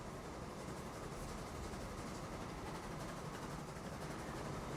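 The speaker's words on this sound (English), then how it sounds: "This train will have a bit of a hard time climbing the grade because of the weight of this train now." A heavily loaded freight train in Transport Fever 2 labours up a grade, giving a dense, continuous rumble and rolling wheel noise that holds steady and fairly loud throughout.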